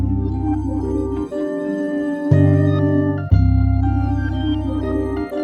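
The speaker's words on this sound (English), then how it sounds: "I really want the flute to shine." A flute melody shifted up an octave with light distortion rides over a sustained bass-heavy synth backing, notes held and changing every second or so in a dense, full mix.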